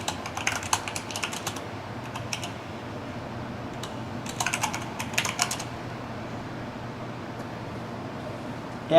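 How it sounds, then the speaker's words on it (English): Quick bursts of typing on a computer keyboard, soft clicky keystrokes coming in irregular clusters over a faint steady background hiss. "Yeah, you can see me typing."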